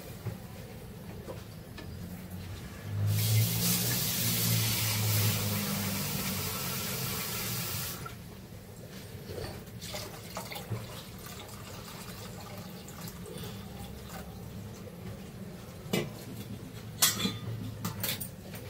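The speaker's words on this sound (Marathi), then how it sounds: "याच्यात अजून पाणी टाकणार आहे." Water poured from a tap or jug into a cooking pot of rice and milk for a festival sweet dish, a steady broad rushing fill lasting several seconds, followed by quieter kitchen clatter and small knocks.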